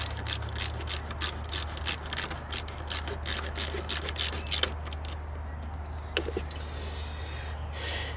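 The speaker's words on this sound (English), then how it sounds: "Now I'll take my quarter inch, tighten that back down." A quarter-inch ratchet tightens an alternator bolt on a Grand Marquis or Crown Victoria, giving a run of quick, close, rhythmic clicking strokes that stop partway, followed by a few faint metallic taps.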